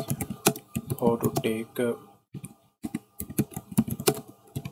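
Rapid clicking keystrokes on a computer keyboard while C++ code is typed, close and crisp, in irregular bursts interleaved with someone speaking Hindi.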